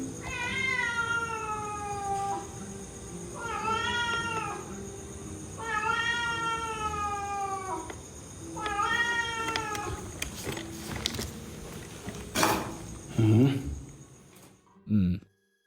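A cat meows repeatedly in a long, wavering caterwaul, four drawn-out cries in a row, followed by scattered knocks and clatter in a quiet room.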